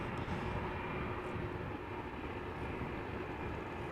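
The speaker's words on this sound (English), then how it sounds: "two heavies are already taxiing towards the runway threshold. A Queen and a Dreamliner 787-10." Heavy airliners, among them a Boeing 787-10 Dreamliner, taxi at Schiphol, heard as a steady, broad roar of jet engines that holds at an even level throughout.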